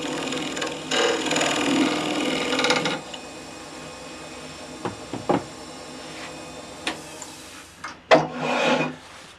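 A woodturning tool cuts into the base of an oak bowl on the lathe, a close, rough scraping and rasping in bursts that stops, then returns in short scrapes and taps.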